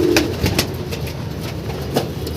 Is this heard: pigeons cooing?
yes